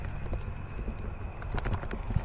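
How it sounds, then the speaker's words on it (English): A broadwing tree cricket trills steadily outdoors, a continuous high, even tone that holds throughout with slight pulsing, set against faint low background noise and no voices. "I think that one was a broadwing tree cricket."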